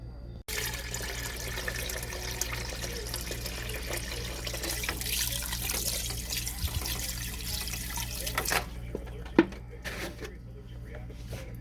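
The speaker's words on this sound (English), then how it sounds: "Pour our water over there" Spring water pours steadily into a cooking pot at close range for several seconds, then stops, followed by a light clink and a few soft handling sounds.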